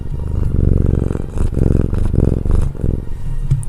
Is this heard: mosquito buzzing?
no